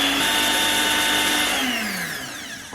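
A kitchen blender whirs as it mixes sugar, white vinegar and salt for homemade mayonnaise, its loud motor whine steady and then spinning down toward the end, with nothing else audible.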